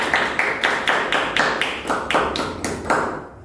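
Small group clapping in bursts at a thesis defense ceremony after a medal is presented, a run of sharp, close, rhythmic claps that pauses and restarts several times, then stops.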